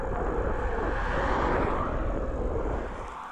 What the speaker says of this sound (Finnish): oman pyörän renkaiden humina